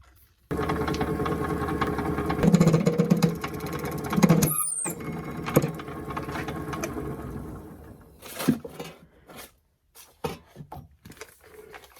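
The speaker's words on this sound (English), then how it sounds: "I think I'm going to cut that off so it don't stick out as far in the lathe." A lathe turning a resin test piece runs with a loud, steady mechanical whir and tonal hum. Intermittent cutting scrapes and knocks sound over it before the machine slows and falls quieter near the end.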